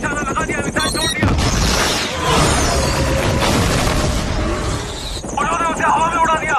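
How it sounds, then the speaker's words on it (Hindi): Video game missile launch and explosion, a loud booming blast with rumbling debris spanning several seconds between sharper electronic game sounds, with people talking over it. "मिसाइल छोड़ दिया।"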